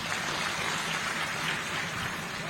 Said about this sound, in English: I think we should clap for that.